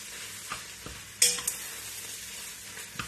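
Leftover meatloaf being stirred and broken up in a warming pan for chili, a soft steady sizzle with a few sharp spoon scrapes and clicks near the middle, close and fairly quiet.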